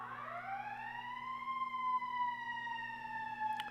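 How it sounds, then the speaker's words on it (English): An ambulance siren wails in a long rising and falling tone that is steady and moderately distant, with a faint click near the end and no talking. "Have our ambulance coming by."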